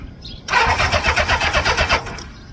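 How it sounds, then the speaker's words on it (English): A car engine with the ignition and choke on cranks rapidly over without catching, making a fast, even, rhythmic churning that lasts about a second and a half after a brief quiet start. "Ignition on, choke on, and turn her over."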